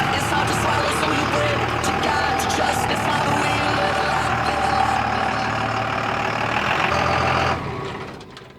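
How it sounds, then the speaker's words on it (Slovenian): American tractor engine idling on a farm, a steady loud rumbling drone held for several seconds before quickly fading away. "Tole imaš pa tudi prav ameriški traktor."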